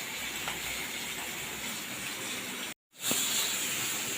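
Fish frying in hot oil in a pan for a sour fish curry, a steady loud hiss that cuts out abruptly for a moment and then surges back, no talking.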